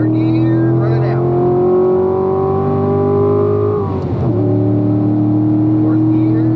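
Corvette on a race track pulls hard in third gear, its engine note rising steadily before a quick shift, then droning on loud and close; an instructor speaks over it.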